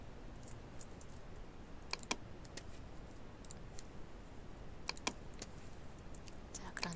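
Computer keyboard shortcut keys pressed while working in Photoshop, a few faint, sparse clicks and taps in pairs against quiet room noise.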